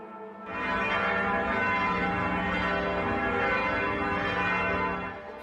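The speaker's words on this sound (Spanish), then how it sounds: "Este lunes las campanas sonaron en el Vaticano, pero también en otras partes del mundo, incluido Chile." Church bells ring continuously and loudly with a rich, sustained tone, marking the death of a pope, heard alone without voices.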